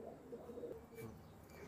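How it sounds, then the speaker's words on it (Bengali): Pakistani pigeons give a soft, low, throaty coo lasting under two seconds, faint and close in a quiet room. "দেখেন কোয়ালিটিফুল কবুতর"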